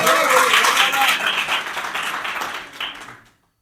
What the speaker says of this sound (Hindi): सुनने में मजा आ रहा है तो एक बार जोरदार ताली बजाएंगे।